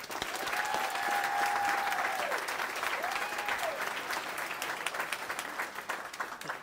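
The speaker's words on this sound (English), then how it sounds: "Let's give them a big round of applause." Audience at a Southern California graduation commencement breaks into steady, sustained applause from a large crowd, with a faint whistle-like tone gliding above the clapping.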